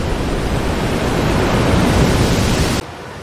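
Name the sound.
tsunami water rushing back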